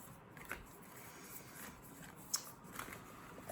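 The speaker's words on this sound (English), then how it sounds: "Some people don't like the sound of shuffling, but I actually really do." A deck of tarot cards shuffled by hand in a soft, continuous flutter with a few sharper snaps, quiet and close, no talk.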